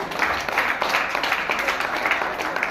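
A crowd at a state-level school arts festival in Vijayawada breaks into clapping, a brief burst of many hands in pulsing waves, moderately loud, with some voices mixed in.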